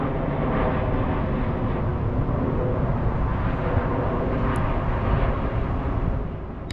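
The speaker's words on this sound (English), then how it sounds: "As that plane flies over." An airplane passes above a walking tour near Legion Field in Birmingham, Alabama, its steady broadband drone filling the whole stretch at moderate distance before fading sharply at the end.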